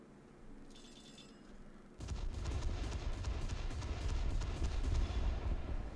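Anti-aircraft guns on a naval ship in a video game open up in a dense, continuous rattling barrage of rapid booms after a brief quieter lead-in with a ringing tone.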